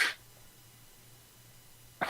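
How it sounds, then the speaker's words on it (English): A child sneezes twice in the background of a quiet indoor room, once at the start and once near the end, each a short sharp burst separated by low hum. "was my son sneezing behind me."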